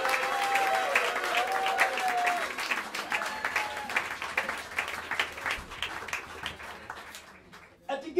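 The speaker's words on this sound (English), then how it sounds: "Wonderful, wonderful round of applause." Enthusiastic applause from a jazz club audience at Smalls in New York City, sustained clapping that gradually thins out, with a voice and a brief musical tone early on.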